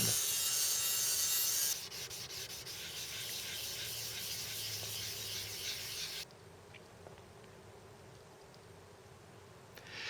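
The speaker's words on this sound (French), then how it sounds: "Vient ensuite le ponçage." Steady hand sanding of a forged steel knife blade, a continuous close rasping hiss that drops in loudness partway through and continues more quietly, with no talking.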